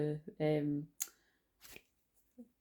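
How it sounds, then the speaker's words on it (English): Tarot cards are shuffled in two short, close, rustling bursts that follow a brief spoken voice, with a faint tap near the end. "I'm just going to shuffle one more"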